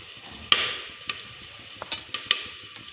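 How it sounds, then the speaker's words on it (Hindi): Onions fry until brown in a pan, giving a close, steady sizzle broken by several sharp scrapes and taps of a spoon stirring against the metal, with no voices. "तो जी प्याज मेरे हो गए भूनकर ब्राउन"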